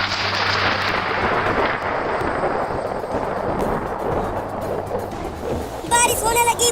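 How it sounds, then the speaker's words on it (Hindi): Rain begins amid rolling thunder, a loud broadband rumble and wash that holds steady throughout, with a brief burst of chatter near the end. "बारिश होने लगी, बारिश होने लगी।"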